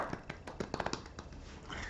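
A few soft, scattered hand claps in a quiet golf-clap style, faint and brief, with light background noise.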